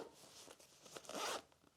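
Strong zipper on a Bellroy bag pulled open close by: a short, quiet, rasping zip with a few uneven strokes, alone.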